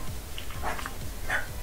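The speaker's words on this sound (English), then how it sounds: "ignore the dogs" A couple of dogs bark and yip briefly in the background, fairly faint and brief, with no talking over them.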